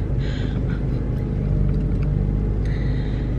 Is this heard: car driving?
yes